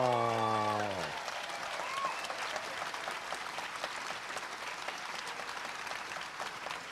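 A crowd at a live Q&A event claps in a sustained, moderately distant round of applause, following a brief voice at the start and then continuing alone as an even, crackling patter.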